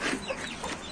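A hen that failed to hatch her chicks clucks close by in one short, busy burst of clucks lasting about a second.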